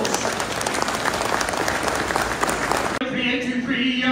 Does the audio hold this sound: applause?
yes